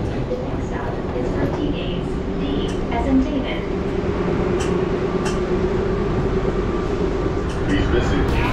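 The airport plane train between terminals at Atlanta rumbles along in motion, a loud steady low roar and rattling hum with faint squeals, under talking voices.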